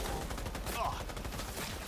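Rapid gunfire bursts from the video game Cyberpunk 2077, loud close shots overlapping into a dense stream with a voice partly mixed in.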